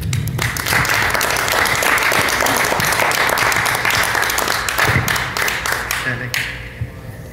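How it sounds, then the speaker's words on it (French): Warm audience applause greeting a coach and speaker at a conference, dense clapping filling the hall for several seconds before fading out near the end. "je vous demanderai de l'applaudir chaleureusement"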